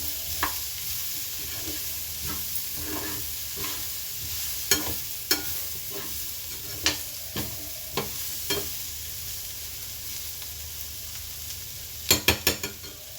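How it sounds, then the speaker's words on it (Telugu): Shredded cabbage curry frying in a pan, with a steady soft sizzle and irregular scraping stirs of a spoon, ending in a quick cluster of clattering strokes. "బాగా ఫ్రై చేసుకోవాలి. బాగా కలిపి మూత పెట్టేద్దాం."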